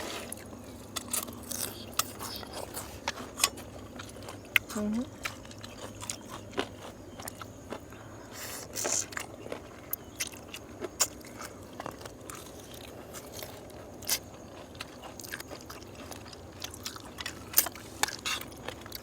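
Close, intimate eating of khanom jeen rice noodles in red spicy forest-style curry with chicken feet, with repeated soft bites, crunches and wet chewing clicks scattered across a quiet background.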